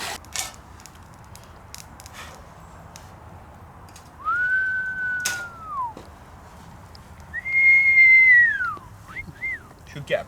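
A person whistles outdoors at a carp-fishing camp: two long sliding notes, the second louder and higher, then a short rising chirp. Quiet open-air background.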